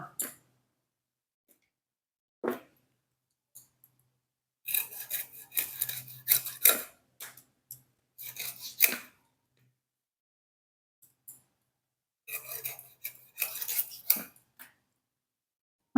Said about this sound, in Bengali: মাছগুলো কাটা হয়ে গেছে সুন্দর করে